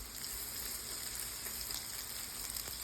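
Potatoes fry in a home-cooking skillet with a steady, dense sizzle that holds evenly, close and fairly quiet, with no voices over it.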